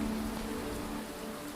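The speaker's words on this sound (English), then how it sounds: "the rain returns gentle and forgiving" Steady rain hisses down at the Geelong Botanic Gardens with an even, close patter on leaves and surfaces, continuous throughout with a faint low hum beneath and no voices.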